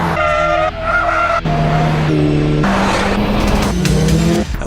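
Mitsubishi Lancer Evolution 10 on a racing school track, loud engine revving through gear changes with rising and falling pitch and tire squeal, heard close and continuous, no talking.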